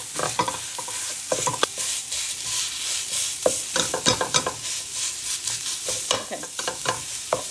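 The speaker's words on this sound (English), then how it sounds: "so we're going to fry that up. Sorry, that was loud." Ground pork frying in a pan for a mock egg roll bowl, a loud steady sizzle broken by frequent clattering stirs and scrapes of a utensil.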